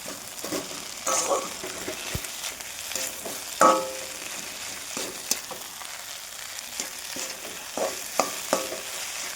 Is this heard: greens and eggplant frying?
yes